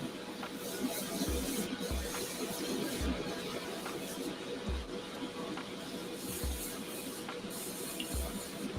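Airbrush spraying thin layers of paint onto a creepy-crawly model, a continuous soft airy hiss with faint low thumps recurring about every second.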